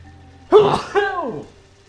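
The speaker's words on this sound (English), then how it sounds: "I'm gonna sneeze." A single close sneeze, a sharp sudden burst followed by a short trailing vocal exhale, in an otherwise quiet room.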